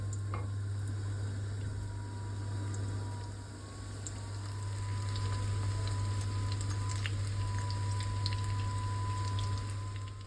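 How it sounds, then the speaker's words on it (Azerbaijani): Crepes rolled with chicken and mushroom filling, coated in egg and breadcrumbs, fry in hot oil with a steady, soft sizzle and crackle that continues throughout over a constant low hum. "Hər biri hazır olduqdan sonra isə yumurtaya və suxarıya bulayıb qızğın yağda qızardırıq."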